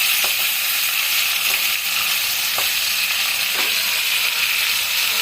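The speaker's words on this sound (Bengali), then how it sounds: "তো পনিরটাকে আমি ভেজে নিচ্ছি।" Cubes of paneer fry in hot oil with a loud, constant sizzle close by. Faint stirring knocks sound now and then, and no one speaks.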